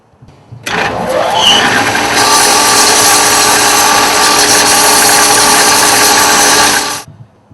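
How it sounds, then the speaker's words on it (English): Power grinder smoothing the edge of a stiff metal rod for a classic VW Beetle seat frame, spinning up quickly into a loud, steady whine for about six seconds before winding down. "I'm going to grind down the edge a little bit to make it real nice and smooth"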